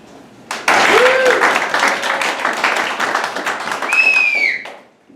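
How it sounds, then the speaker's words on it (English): Audience applause at a Friday night live show, bursting in after a short pause and holding loud and steady for several seconds before fading, with voices calling out over the clapping. "I need a round of applause"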